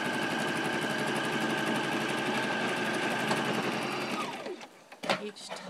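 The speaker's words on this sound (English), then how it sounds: "I'm just going to sew straight across." Sewing machine stitching straight across a reversible basket liner to form a casing, a fast steady mechanical whir close by that slows and stops near the end.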